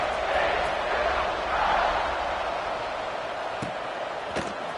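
Football stadium crowd roaring at a kickoff, a broad, loud, sustained wall of cheering that swells and eases slightly, with a couple of sharp thuds near the end.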